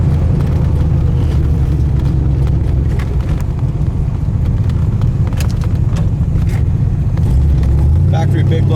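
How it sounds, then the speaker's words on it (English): A 1974 Corvette Stingray with a factory big block 454 V8 and 4-speed manual roars under hard acceleration through a gear change, a loud continuous engine rumble with heavy wind buffeting throughout. "Tell you what, these Corvettes have a lot of power. Hit second gear there."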